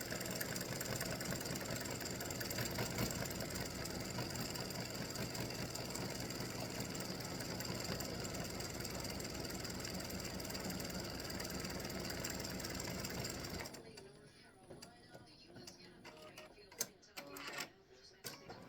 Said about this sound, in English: it's just finishing the satin stitching around the hat